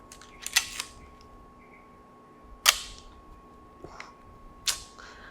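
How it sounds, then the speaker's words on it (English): Three sharp, loud shutter clicks from a Leica M6 TTL film camera, spaced a couple of seconds apart, with a faint hum and small clicks in between. "It's a very loud shutter."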